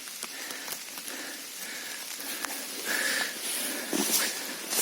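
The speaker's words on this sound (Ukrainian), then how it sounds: "Пішов дощ. Фактично дощ падає" Steady light rain falling in a Carpathian mountain forest, soft continuous patter with scattered louder drops close by, no talking.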